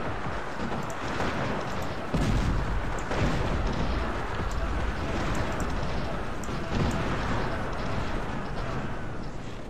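Gunfire and artillery in the Cossacks real-time strategy game, a dense continuous battle din of overlapping shots and booms that swells slightly after the first couple of seconds, steady throughout with no voices.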